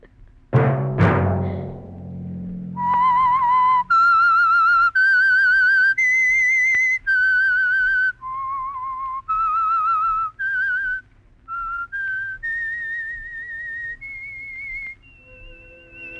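A single person whistles the signature tune of the old radio mystery program The Whistler, a clear, solo melody of sustained notes with short pauses between phrases, close and alone after a brief soft lead-in.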